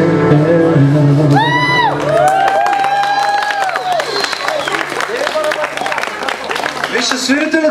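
An audience applauds a band at a live music event in Bulgaria, with steady clapping, whoops and cheers and a voice shouting over the crowd at close range.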